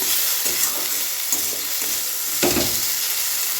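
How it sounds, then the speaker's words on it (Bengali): Potatoes fry in a pan with a continuous close sizzle and hiss, broken by a few soft scraping stirs. "এখানে দেখো আলু ভাজা বসিয়ে নিয়েছি"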